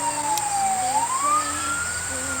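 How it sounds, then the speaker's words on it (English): An emergency vehicle siren sweeps down and then rises again in a small town, loud and fairly close over a low vehicle rumble, with no voices. "My small one red light town, and sirens play all day."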